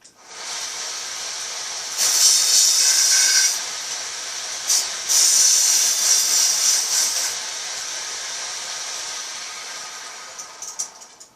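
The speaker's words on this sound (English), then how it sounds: "We're going to use the small sander to do that." A small electric sander smooths the sharp edges of a golf club before new Golf Pride Tour Velvet grips go on, giving a steady high hiss that swells louder in two bursts of a second or two.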